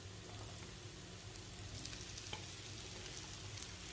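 Chopped bitter gourd sizzling and frying in a hot pan with oil, a steady close crackle with light stirring throughout, no talk.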